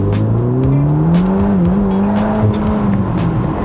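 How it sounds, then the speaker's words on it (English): A Ferrari Roma Spider convertible with around 600 horsepower spins its tires, and a loud, sustained squeal rises and wavers in pitch over the engine's roar, close by, with no talking. "it's just lighting up the tires"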